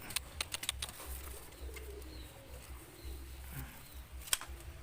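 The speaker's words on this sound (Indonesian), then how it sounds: "Nah ini dia burung." Soft cooing of pigeons close by, repeated low calls over a quiet background with a few scattered sharp chirps and clicks.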